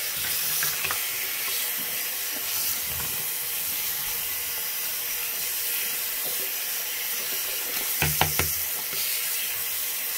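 Dyson DC07 vacuum cleaner parts being washed with water, a steady hissing wash of running water throughout with brief louder splashes and clunks near the end; a voice speaks once briefly.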